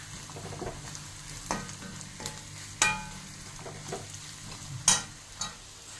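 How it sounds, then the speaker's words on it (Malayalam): Spice powder sizzling as it fries in a pan for a Kuttanad-style Kochi curry, with a low steady crackle broken by several sharp scraping clinks of a spoon stirring, close and fairly quiet with no talk. "നല്ലപോലെ ഇട്ട് മുരിയിക്കുക."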